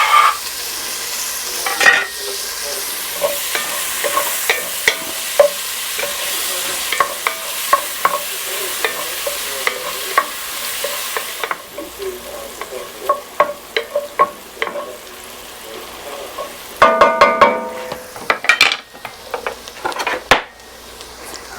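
Half a medium onion, chopped, frying in a pot as the base for green chile chicken chowder: a steady close sizzle with stirring scrapes throughout, growing busier with louder clatters near the end, no voices.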